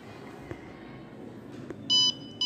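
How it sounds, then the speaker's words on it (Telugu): A school alcohol detector project's buzzer sounds as a sharp electronic beep lasting about a third of a second, then starts again right at the end, over a low room hum. "200 దాటాక బజర్ అనేది మోగింది,"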